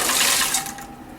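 Shrimp shell broth pours into a pan for chupe de camarones, a short rushing liquid splash that tapers off within about a second, with no talking.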